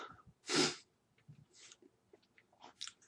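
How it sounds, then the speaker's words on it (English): One short, sharp sneeze bursts out near the start, close and loud, followed by faint breathing and small mouth sounds. "Sorry, I know I sneezed again"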